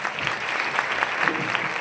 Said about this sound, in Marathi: खुशीताईसाठी सर्वांनी टाळ्या वाजवा.